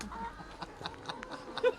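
Chickens cluck in short, scattered bursts close by, several birds calling over a faint farmyard background with a bit of nearby voice.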